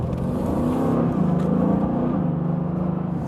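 A Mercedes-AMG GT accelerates hard on an open road, its engine note climbing and swelling under heavy throttle. The loud, close drone rises steadily in pitch, with no talking.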